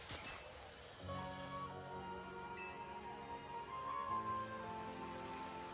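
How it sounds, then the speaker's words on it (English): Steady rain patters down inside a Pokémon video game, a continuous even wash of drops with game music tones running over it and no talking. "Now it's raining again."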